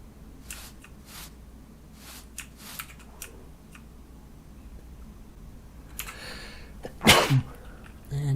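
A single sharp sneeze bursts out near the end, loud and close, following quiet stretches with scattered clicks and faint background noise.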